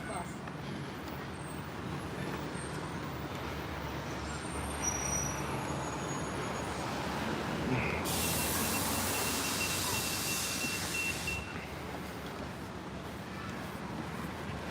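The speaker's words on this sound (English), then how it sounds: "Here's the Disney Springs and Typhoon Lagoon bus." A Disney Springs and Typhoon Lagoon shuttle bus rumbles close by with a steady engine roar, and a long hissing burst that sounds like air brakes sits over the middle, while people talk throughout.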